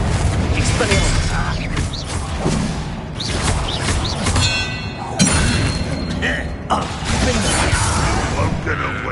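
Expelliarmus, a disarming spell, is cast mid-duel in the game Hogwarts Legacy: loud whooshing bursts and heavy booming thuds in dense combat noise, with a voice speaking over it.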